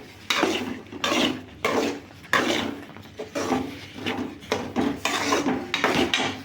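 A metal spoon scrapes and clanks repeatedly against a cooking pan while thick rava upma is stirred, in steady close-up bursts of scraping with short pauses between strokes.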